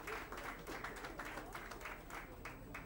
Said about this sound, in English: Clap for him. Clap for him.